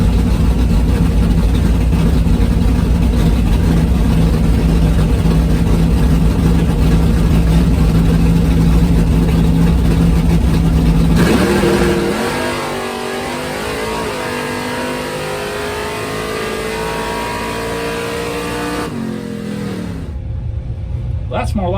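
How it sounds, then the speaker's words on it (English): A drag race car does a burnout, its engine roaring loud and steady for several seconds before the pitch drops and wavers as it eases off, a harsh close blare that fades out at the end. "So switch lanes, do a little more burnout,"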